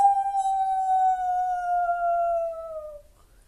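A single long, steady coyote howl holds one clear sustained pitch and slowly falls away after about three seconds, fairly loud against a quiet background with no talking.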